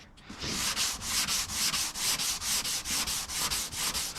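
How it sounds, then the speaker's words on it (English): A tubular sanding block is worked by hand over guide coat on a panel being prepped for a respray, giving a close, regular rasping stroke repeated about every quarter second. "you'll see by the guide coat coming off that we're actually sanding that nice and even"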